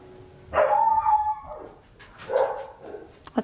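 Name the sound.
dog barking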